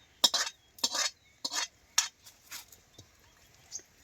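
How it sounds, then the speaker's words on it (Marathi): Cooked safflower leaf greens with green chillies are scraped out of a kadhai onto a plate: four or five distinct, close metallic spatula strokes in an uneven rhythm, then fainter scrapes with quiet gaps between them. "त्याची ताटात ओतून घ्यायची"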